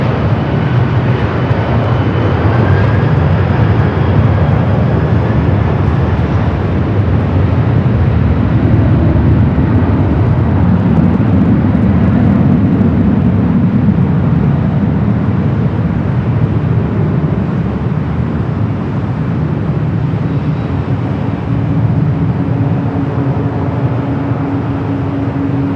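A Delta Boeing 737-800 at Los Angeles International Airport, a sustained low jet roar that holds steady for the whole stretch with a faint whine rising late, heard from a distance with no talk.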